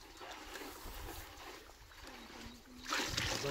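Water poured into a drum to mix a fruit-sizing spray in a sweet lime orchard: a quiet, wet trickle and slosh that builds into a stronger, brief rushing pour near the end.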